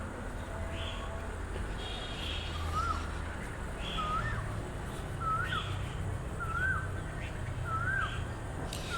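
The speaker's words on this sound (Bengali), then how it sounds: "সুন্দর শানকনুর দেখতে পাচ্ছেন গড়িয়া পাখির হাটের।" Sun conure parrots at a busy open-air bird market in Garia, giving repeated sharp, rising squawks at a steady pace every second or so, moderately distant over a constant low crowd rumble.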